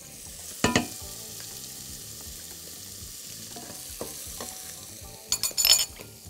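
Garlic and chopped onion sautéing in a pan, a quiet low sizzle with soft stirring scrapes and a few sharp clanks of the utensil near the start and end.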